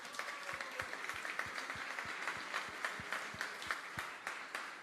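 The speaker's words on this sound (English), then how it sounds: "So give him a big applause," Scattered audience applause at a book launch, fairly faint, with distinct individual claps standing out in a loose rhythm over a soft wash of crowd noise.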